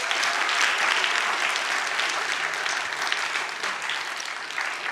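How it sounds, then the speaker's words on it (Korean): A camp audience applauding one another on the final evening, dense continuous clapping filling the room at an even level from start to finish. "우리 모두를 격려하는 차원에서 서로에게 한번 박수를 쳐줘봅시다"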